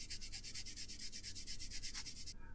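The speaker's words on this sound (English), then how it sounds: "We're just going to take the buffing block, go over the surfaces" A buffing block rubs back and forth over a plastic model surface to smooth away nubs and seam lines, making a steady run of about twenty quick, even scrubbing strokes, close and moderately loud, with no voices.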